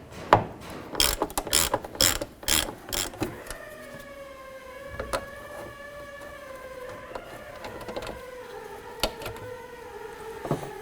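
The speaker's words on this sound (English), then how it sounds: "Using a T25 Torx bit, you want to go ahead and remove this screw and this screw." T25 Torx bit taking screws out of a 2005-10 Jeep Grand Cherokee tail light: a run of sharp ratcheting clicks, then a steady tonal whir broken by occasional clicks, close and alone.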